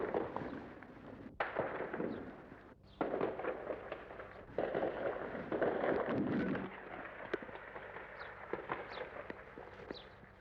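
Gunfire during street violence in Belfast, sharp cracks and bangs going off irregularly, some close and loud, others more distant, amid a rough background din.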